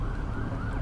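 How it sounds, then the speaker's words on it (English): Police sirens wail as they approach, a sound effect in a tabletop role-playing podcast, heard as a brief, steady rising tone under broad, wind-like rushing noise. "As you exit, you hear police sirens getting closer."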